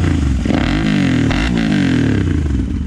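A Royal Enfield Interceptor 650 with a loud aftermarket exhaust revs hard up close, its engine rising and falling in pitch through several quick throttle blips with a raspy, booming tone.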